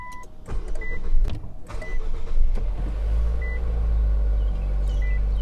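A modern push-button-start car with a dead key fob is started by holding the fob against the start button: short electronic beeps, then the engine cranks and settles into a steady low idle that carries through to the end.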